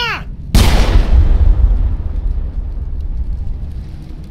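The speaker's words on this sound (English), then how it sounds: "Now we're shooting each other in the back." A single loud, heavy gunshot blast in a video game cutscene, booming up close and then rumbling off in a long fading tail, with no talking.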